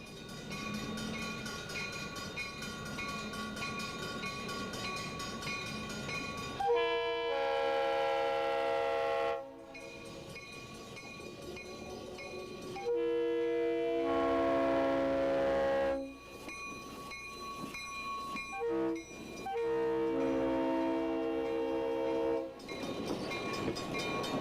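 A Santa Cruz, Big Trees & Pacific Railway train sounds its horn in several long, loud blasts over the steady rumble and rattle of the rolling cars, with no voices.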